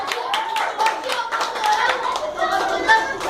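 Rhythmic hand clapping in praise at a small children's worship group, a brisk, regular beat of close claps mixed with singing and chatter.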